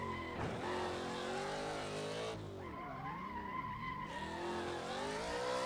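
A car drifting, its tires squealing in long sustained wails that bend and waver as the slide is held, with engine roar underneath, close and loud throughout.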